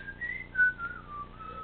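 A person whistles a wavering tune, sliding between high notes, close and clear with no talk.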